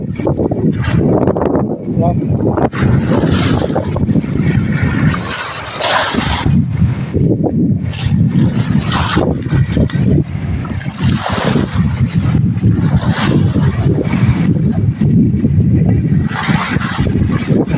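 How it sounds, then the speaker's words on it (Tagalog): Loud, constant wind roars and buffets the microphone on a beach, with surf rumbling beneath and a voice speaking through it. "Lakas ng hangin mga ka-birds."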